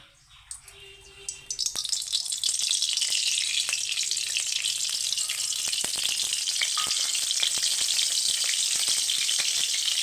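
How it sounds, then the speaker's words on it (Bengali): Oil heating in a kadai for frying boal fish begins quietly, then breaks into a loud, dense, continuous sizzle that holds steady to the end, with faint crackles and no voices. "তেল দিয়ে তেলটা গরম হোক"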